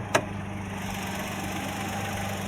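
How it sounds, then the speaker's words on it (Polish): A 1-litre three-cylinder Firefly engine idling in a Fiat 500 Hybrid, a steady low hum with a faint even vibration, heard from nearby with a single brief click at the start, no talk. "pod maską drzemie 3-cylindrowy, wolno ssący silnik z rodziny Firefly o pojemności 1 litra"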